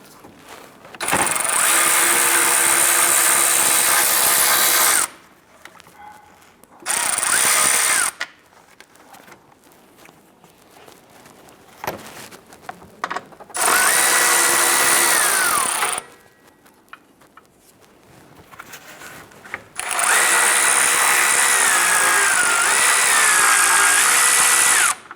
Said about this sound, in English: I'm gonna go ahead, loosen, and remove both of these bolts. Using 10mm socket and our extension